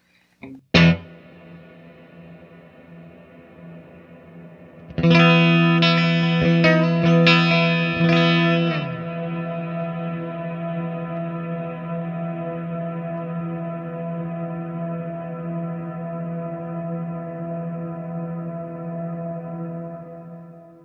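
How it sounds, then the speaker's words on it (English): Electric guitar through a Wampler Reflection reverb pedal set to infinite reverb: a short plucked note, then a loud strummed chord whose wash sustains without decaying, ringing on as a steady drone. "So what we get as we turn it all the way up is an infinite reverb."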